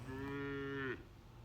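A cow in a herd at sunset gives one long, steady moo lasting about a second, close and clear over a quiet outdoor hush.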